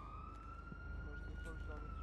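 Police car siren in a video game, a steady wail heard faintly in the background beneath muffled voices and ambient noise.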